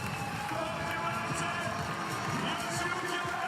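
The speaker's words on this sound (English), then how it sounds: "And that is our crowd as he leaves the arena." Steady crowd noise fills a climbing World Cup arena at Innsbruck, a dense continuous murmur with faint cheering as a climber leaves, holding an even level throughout without clear individual voices.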